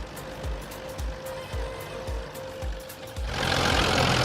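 A Cessna 337 Skymaster in the X-Plane 12 flight simulator, with its auxiliary power unit starting up: a steady broadband roar swells in about three seconds in and drowns out the rhythmic low engine thumping beneath it.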